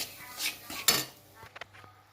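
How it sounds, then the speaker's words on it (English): A spoon stirs rava laddu syrup with cardamom powder and dry fruits in a pan, giving a few scraping clinks of metal on the pan and one sharper clatter, fairly quiet with no talk. "Mix it well"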